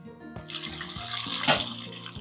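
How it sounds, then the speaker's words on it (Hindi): Marinated chicken for chicken tikka karahi hits hot oil over a medium flame and sizzles. The hiss is steady and bright, swells after a short start and carries on evenly without talk. "ऑयल है जो यहाँ पर गर्म हो गया। मैं इसमें ऐड कर दूंगी मैरिनेट किया हुआ चिकन।"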